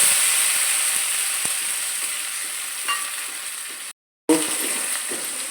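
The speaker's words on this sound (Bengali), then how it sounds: "আবার কষে নিচ্ছি।" Spice paste sizzles and spits steadily in a hot pan while being sautéed with bay leaf, dried red chilli and five-spice, with faint stirring clicks and a brief cut to silence midway.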